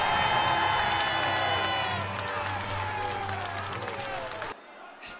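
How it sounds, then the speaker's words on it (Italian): Crowd applauding and cheering in a packed Italian piazza at Silvio Berlusconi's funeral, a loud, dense wash of clapping that holds steady for several seconds before cutting off abruptly near the end. "Un applauso a Silvio"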